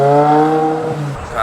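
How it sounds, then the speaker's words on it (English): A Ferrari with an Eisenman race exhaust pulling away, its engine note loud and close, a strong harmonic drone that holds steady and then drops off as the car leaves. "Doc's gonna go for a quick little ride here so we can actually hear the car drive off"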